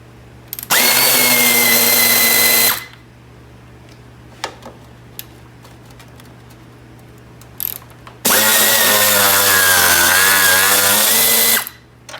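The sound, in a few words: power tool removing radiator shroud bolts, Chevy S10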